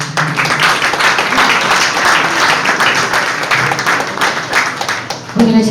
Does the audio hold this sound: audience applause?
yes